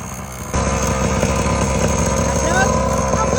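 A kid's mini motocross bike engine starts up suddenly and runs loud and close with a steady buzzing drone, revving slightly, while a person talks over it.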